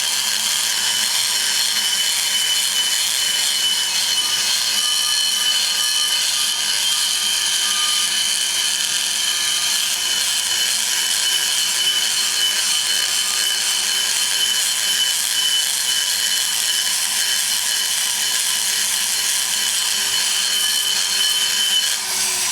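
A grinder ports the exhaust port of an LS engine head, removing a good deal of casting metal, its high, steady whine running unbroken and loud for the whole stretch with no talking.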